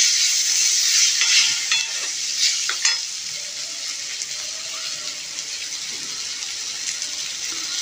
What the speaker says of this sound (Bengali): এরপর কেটে রাখা করলাগুলো দিয়ে দিচ্ছি, দিয়ে করলাগুলোকে ভালো করে মিশিয়ে নেব।